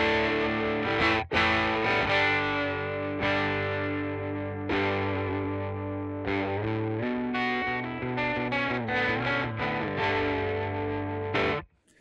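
Jazzmaster electric guitar plays through a Special Cranker overdrive pedal on its germanium setting, giving loud, gritty driven chords and picked notes with brief gaps, ending abruptly.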